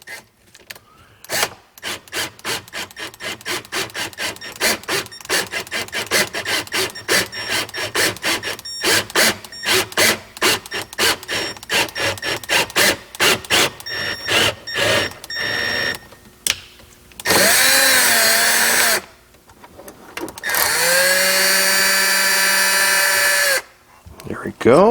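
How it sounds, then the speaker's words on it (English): A wrench tightens a bolt while a Trail Icon Versa Dash is installed on a Can-Am Defender dash. Rapid, close ratcheting clicks run for a long stretch, followed by two louder sustained whirring bursts with brief gaps. "Put the wrench on."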